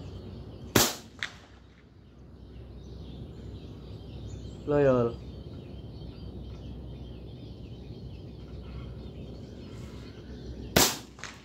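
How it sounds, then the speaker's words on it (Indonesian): Two sharp, isolated air rifle shots from an HW100 carbine at a 95-metre outdoor range, spaced about ten seconds apart, with someone speaking briefly between them and a faint bird call in the background. "Telung tembakan, tiga tembakan lo sak bolongan."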